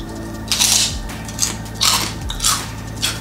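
Fried pork rinds, Filipino chicharon, crunched up close while eating, with four sharp, loud bites spaced about a second apart over a quiet background hum.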